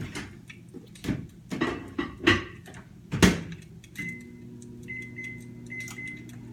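A few clattering knocks give way to a steady low electric hum of a microwave running while cooking bacon, with faint short tones over it.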